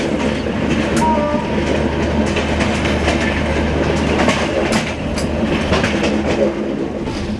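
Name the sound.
passenger train running on rails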